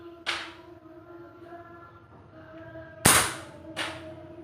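Three sharp shots from a Daystate PCP air rifle, a single one early, then a louder crack and a softer one close together near the end, over a low steady hum.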